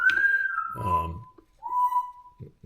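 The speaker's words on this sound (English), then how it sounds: "if you hear somebody in the background, that is the parrot." A parrot gives high, clear whistles, a long sliding note and then another, close by, with a brief low vocal sound between them.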